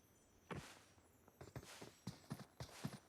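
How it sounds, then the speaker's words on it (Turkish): Enemy players' footsteps in PUBG Mobile, a faint series of soft thudding steps in an irregular walking rhythm over a low background hiss, growing slightly more frequent toward the end. "adamların ayak sesini duyuyorum ama nereden olduklarını anlayamadım"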